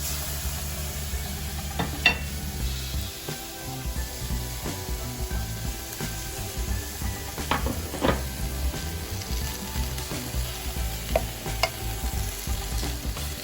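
Broth and spinach leaves sizzle and fry steadily in a pot for vegan gluten-free ramen, with occasional stirring scrapes and clicks, fairly close, no talking.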